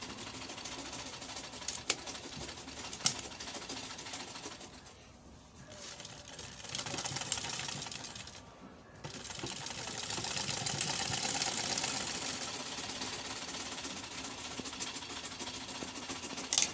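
A sewing machine topstitches a gathered skirt, running in a steady close mechanical whir with two brief pauses where the stitching stops and restarts.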